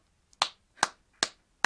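Four slow, deliberate hand claps ring out close and alone, evenly spaced about half a second apart, each a sharp crisp smack with a short decay, mocking in pace.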